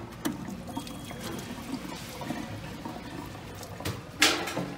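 Water is poured into a speed oven during magnetron troubleshooting, a quiet trickle and splash with a sharper spill near the end.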